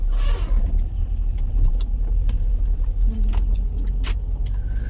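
A car drives along a road, heard from inside as a steady engine and road-noise rumble. Small clicks and rattles occur now and then.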